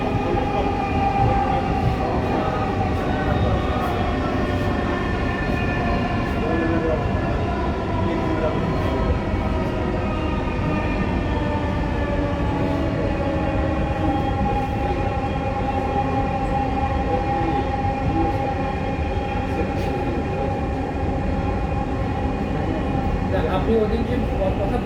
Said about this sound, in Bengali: This train is bound for Motiji.